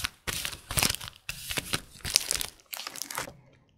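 Bursts of loud crinkling and rustling as a big neon-yellow plastic bag is handled and opened, in several separate rounds with short pauses between.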